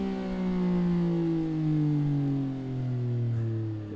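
A CFMOTO 675 SS motorcycle fitted with a Yoshimura exhaust holds a loud, close engine note that sweeps gradually downward in pitch, smooth and continuous with no talking.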